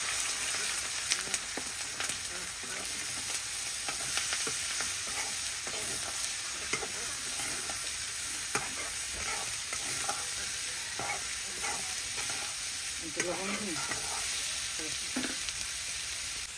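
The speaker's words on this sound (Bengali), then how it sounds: "এই তেলের মধ্যে আমি পেঁয়াজ ভাজিয়ে কাইটা রান্না করব" Onions fry in oil left over from frying fish, a continuous crackling sizzle mixed with stirring and scraping in the pan, moderately loud and steady, with no talking.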